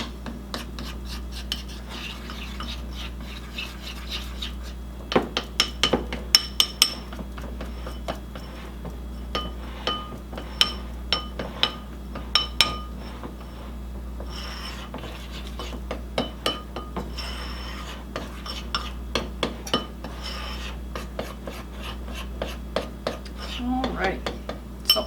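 A utensil stirs melting chocolate in a bowl, giving repeated close clinks and scrapes against the bowl in an uneven rhythm that carries on steadily.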